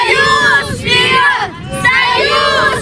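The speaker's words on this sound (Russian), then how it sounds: "Поддерживать боевой дух помогали болельщики." Football fans at a village match between Grabovo and Zarechny cheer and shout in loud surges, a dense crowd roar rising twice with a short dip between.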